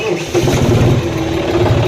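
A John Deere 5045 tractor engine starts up and settles into a loud, close, steady diesel throb with a rapid low pulsing rhythm.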